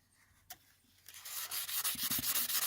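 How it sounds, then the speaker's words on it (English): A rainbow opal rock is rubbed and sanded by hand, starting with a single sharp knock, then building into close, steady, rhythmic abrasive strokes that grow louder and scratchier. "we're just going to do a bit of rubbing here"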